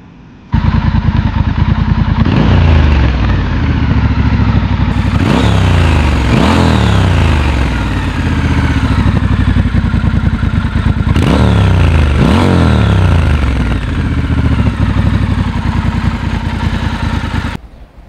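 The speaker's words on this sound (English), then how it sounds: "So what I have here today is the Triumph Scrambler 1200 XC." A Triumph Scrambler 1200 XC motorcycle engine revs loudly and up close, with repeated sharp throttle blips rising and falling over a steady idle, plus some mechanical clatter.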